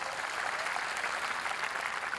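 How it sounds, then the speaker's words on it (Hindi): An audience claps together at a comedy poetry show, a brief, steady burst of dense applause from a crowd throughout. "तालियां आप लोगों की थोड़ी सी कमजोर है"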